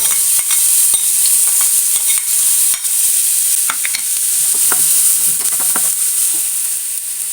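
Finely chopped onion hits hot oil or ghee in a pan for a vegetable roll filling, giving a steady, loud, close sizzle with scattered crackles and spoon-stirring clicks throughout, no voices.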